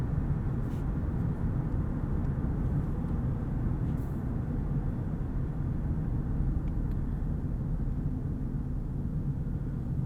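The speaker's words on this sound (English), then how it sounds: "And this is a very quiet engine. If we're just cruising along in comfort mode," Inside a 2018 Lexus LS 500 RWD cruising in comfort mode, a steady, even cabin hum of the quiet engine and road noise continues unbroken with no talking.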